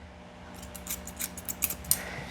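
Grooming scissors snip at a Shih Tzu's fur in a quick run of about eight crisp, close cuts, with no talking.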